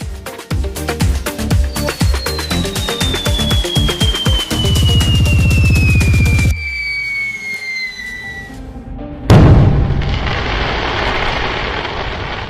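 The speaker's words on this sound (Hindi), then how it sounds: "डांस करने के बाद ये लोग पटाखे फोड़ने लगते हैं।" A Diwali sky shot firework climbs with a long falling whistling whine, then bursts with a loud crackling bang that spreads into a fizzing roar.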